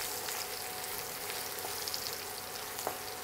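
Green chilies, ginger strips and garlic fry in a pan with a dense, even hiss of oil, moderately loud, with a few faint pops and stirring scrapes.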